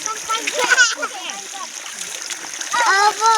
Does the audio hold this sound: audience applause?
no